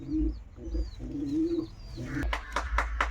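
Domestic house pigeons coo in low, rolling murmurs, several close calls in quick succession, ending with a few sharp flutters or knocks.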